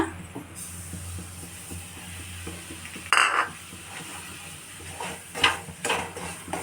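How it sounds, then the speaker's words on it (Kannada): Semolina tipped into a pan and stirred while making rava laddu: soft, intermittent scraping and rattling of a spoon against the pan, with a sharper clatter midway and a few more scrapes near the end. "ಇವಾಗ ಅದೇ ಪ್ಯಾನ್ಗೆ ತೆಗೆದಿಟ್ಕೊಂಡಿದ್ವಲ್ಲ ರವ ಅದನ್ನು ಹಾಕೋಣ"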